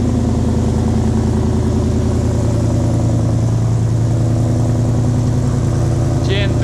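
Coyote-swapped Fox body Mustang with MagnaFlow exhaust idling up close, a steady loping rumble that runs unbroken and loud throughout.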